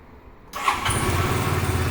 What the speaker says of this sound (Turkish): Bakın motor şu anda çalıştı.